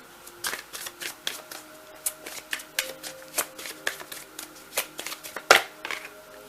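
Tarot cards are shuffled and handled up close, a quick series of crisp riffling flicks and soft card snaps in an irregular rhythm, with no talking.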